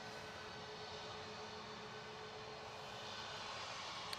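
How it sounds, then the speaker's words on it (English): A Turkish Airlines Airbus A321neo arriving from Istanbul at Manchester Airport gives a steady, moderately loud broadband engine roar that holds evenly throughout, with no voices. "Next arrival is Turkish from Istanbul, A321 Neo."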